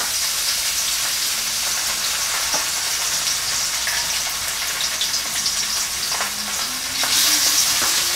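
Meat pieces fry in hot oil, giving a loud, continuous crackling sizzle with scattered pops. A few scraping clinks come near the end.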